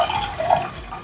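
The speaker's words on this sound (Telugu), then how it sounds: "రైస్ కోసం వాటర్ పోస్తున్నానండి." Water poured into a pot for rice during gongura chicken biryani cooking, a steady close stream filling the vessel, brief and moderately loud with no talk.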